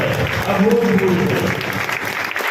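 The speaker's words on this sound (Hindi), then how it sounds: "तालियों की गड़गड़ाहट" Applause from an audience at an event honouring a para shooting gold medallist, a dense, steady wash of clapping that stays loud throughout with some voices mixed in.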